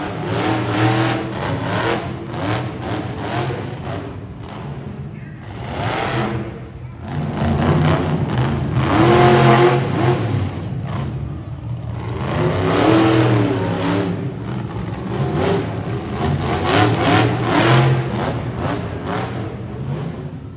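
A big monster truck engine revs and roars in repeated surges at a motorsports show in Saskatoon, rising and falling loudly with brief dips between bursts, heard up close.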